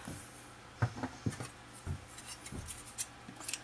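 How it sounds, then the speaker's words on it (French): Scissors snipping a length of crochet thread at a scrapbooking table, several short, close, separate cuts and rustles spread over a few seconds, no voices. "j'ai mon fil à crocheter, je l'avais coupé. Je vais en couper un autre"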